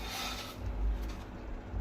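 An earthen clay cooking pot being gently scrubbed by hand, a soft, close rasping rub in a couple of short continuous strokes, fairly quiet with no talk.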